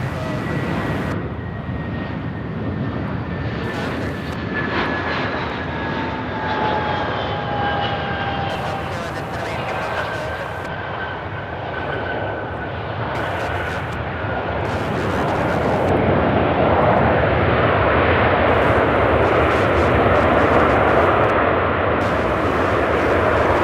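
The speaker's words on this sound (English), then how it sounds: "This A321 arriving from Buffalo in New York." An Airbus A321 arrives from Buffalo at Charlotte Douglas, its engine roar carrying falling whining tones early on, then growing louder and fuller as it nears, with voices talking intermittently.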